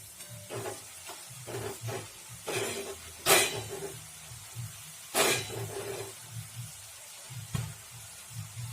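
Thenkuzhal murukku frying in hot oil: soft, intermittent hissing and sizzling with a few sharp bursts of spattering, close by and without talk.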